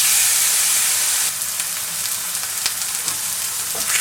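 Sirloin steaks with onion and green chili sear in a hot pan, making a loud, continuous sizzle and hiss with a few crackling pops.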